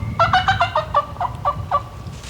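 A wild turkey gobbler calls in the woods, a loud rapid gobbling rattle of about ten pulses running together in one burst, with nothing else over it.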